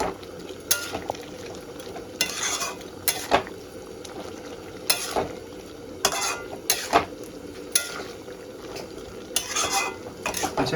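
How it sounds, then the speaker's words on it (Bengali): Fried fish stirred into a boiling curry with potato and eggplant: repeated sharp clinks and scrapes of a utensil against the pot over a steady bubbling sizzle, close and fairly loud, with no talking. "ঝোলটা আমার ফুটে গেছে, এবার আমি ভেজে রাখা মাছগুলো দিয়ে দেবো।"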